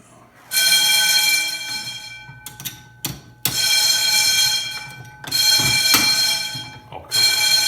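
Commercial fire alarm sounding during a test at Snow Valley ski resort, a loud buzzing horn that blares in three long bursts with short gaps between them, while people speak faintly in the background.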